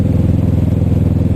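A light motorcycle of roughly 280 to 300 pounds with an aftermarket exhaust runs steadily during a ride, a loud, rapid low-pitched engine throb with an even pulsing rhythm throughout the short stretch.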